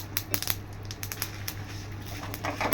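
Sesame seeds and dried chillies crackle and pop in hot oil for a Malabar spinach chutney, with dense, irregular sputtering bursts over a steady low stove hum.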